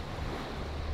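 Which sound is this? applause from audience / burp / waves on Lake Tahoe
waves on Lake Tahoe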